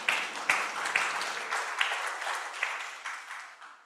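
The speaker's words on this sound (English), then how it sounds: "please give applause for the committee" Applause from a conference audience for the organising committee at an international academic event, a moderate round with a few sharper claps standing out that gradually thins and fades over a few seconds.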